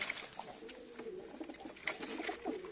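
Pigeons coo softly in the background amid faint fluttering and rustling, with no one talking.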